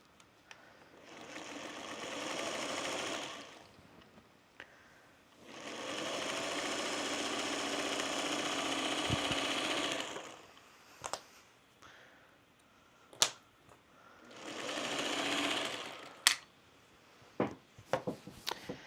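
A domestic sewing machine runs in three separate bursts of steady whirring stitching, each a few seconds long, separated by pauses filled with scattered clicks and handling knocks, close by with no talking.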